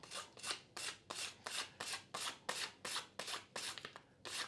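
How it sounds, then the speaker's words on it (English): Sandpaper drawn over frayed graphite fibers on a golf club shaft: about a dozen quick, evenly spaced rasping strokes, close and fairly quiet, with no speech. "All we're gonna do is just get our sandpaper, and we're just gonna go in the opposite direction of where the little fraying"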